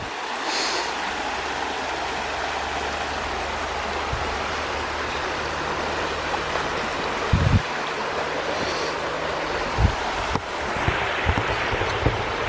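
Water running and splashing over stones at a bridge site, a continuous broadband rush close by with a few low knocks and bumps, no voices.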